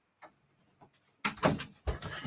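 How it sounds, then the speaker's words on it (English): An indoor door is pulled shut with a few soft knocks and shuffles, then two loud, close thuds and rattles as it closes. "I just gotta close the door here"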